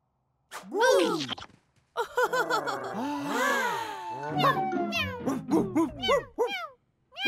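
Cartoon cat meowing repeatedly in a French children's animation, a string of close, clear, pitch-bending meows with short gaps between them.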